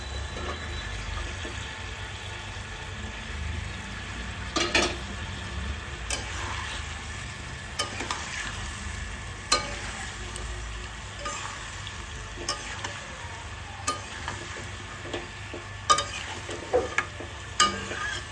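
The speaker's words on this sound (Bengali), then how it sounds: "এবার আমি ভেজে রাখা ফুলকপিগুলো এর মধ্যে দিয়ে দেবো" Pre-fried cauliflower is added to a pan of spices with a little water, giving a steady low sizzle with occasional sharp clinks and scrapes of stirring, close up and with no one talking.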